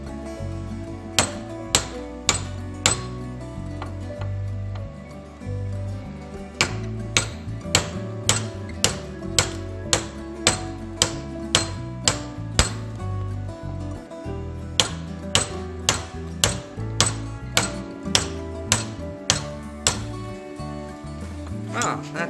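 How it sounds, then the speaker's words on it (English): A steel punch held in a vise struck with a hammer, sharp ringing metallic blows in irregular clusters and steady runs, loud and close, with some voices talking underneath. "We're going to get a bigger punch."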